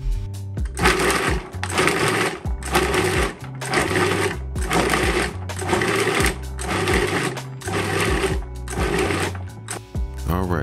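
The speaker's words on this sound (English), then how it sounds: "we chopped up the bacon strips so they'll process easier in the food processor." A food processor chops frozen bacon strips for venison burgers in loud, regular pulsed bursts, each a rough whirring grind about a second long separated by brief pauses, repeating nine or ten times.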